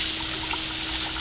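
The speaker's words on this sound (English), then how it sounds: "this water spray is pushing down sand." Garden hose spray washing sand down into the joints of a backyard concrete paver patio, a steady close hiss of water with faint trickling and no talk.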